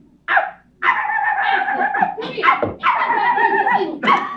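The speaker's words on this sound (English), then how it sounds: "Madame, you cannot bring this dog in here. Dogs are not allowed." A dog in a radio theatre play gives about five close, clear yelping barks and whines in quick bursts with short gaps, and no one speaks.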